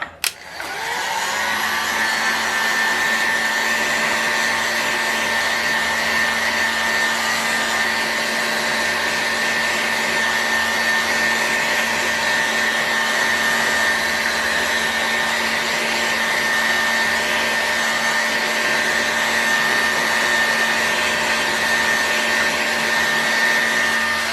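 A heat gun blows steadily on an engine crankcase that is being warmed to take new bearings, a loud, close, even whirring hiss with a constant whine that runs unbroken for the whole span with no talking.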